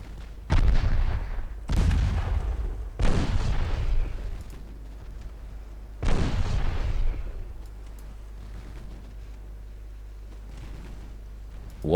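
Heavy 9-inch naval guns firing in Ultimate Admiral Dreadnoughts, four deep booming shots spaced a second or more apart, each a loud thud with a long rumbling decay over a low ambient hum.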